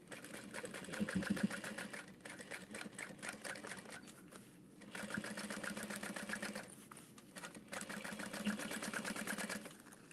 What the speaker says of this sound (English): or you can just sew through the exterior all the way across